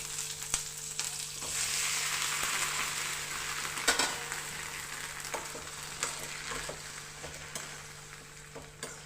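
Green chillies and tomatoes fry in hot oil in a pan, giving a steady close sizzle throughout with occasional sharp clicks and stirring scrapes, no talking.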